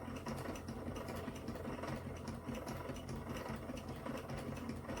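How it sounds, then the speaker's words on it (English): A spinning wheel turns steadily while spinning yarn, giving a continuous mechanical whir with a soft rhythmic clatter, close and moderately loud. "I'm going to keep spinning for a while."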